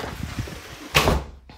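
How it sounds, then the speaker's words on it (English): A house door leading out to a front porch swings open with a single solid thunk, close and fairly loud, against quiet room tone. "This is the door out to the front porch."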